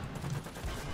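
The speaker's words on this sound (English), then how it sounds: "Oh, he's shooting at me again." Enemy gunfire in the video game War Thunder rattles as a short, dense burst of rapid shots, loud and continuous for about a second.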